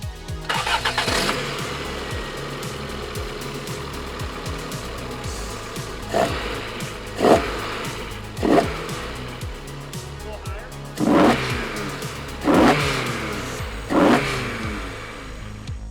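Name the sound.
car engine starting and revving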